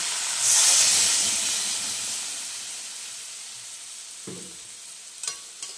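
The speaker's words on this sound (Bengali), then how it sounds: "ভাজা হয়ে গেছে, সর্ষেটা বেশি ভাজবো না, সর্ষে ভাজতে তেতো হয়ে যাবে" Mustard seeds sizzle and hiss as they fry in hot oil in a pan, loud at first then settling into a steady crackle, with a few small clinks of a utensil near the end.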